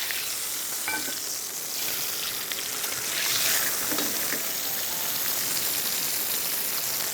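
Seasoned food sizzling and roasting fast in a hot pot, a steady bright crackling hiss with a few scraping stirs, moderately loud and unbroken, no voices.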